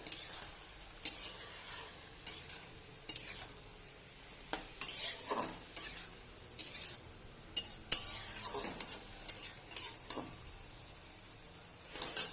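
Chopped snake gourd is stirred and sautéed in a pan for a vegetable-and-prawn dish, with repeated scraping strokes of a spatula over a low sizzle in irregular bursts.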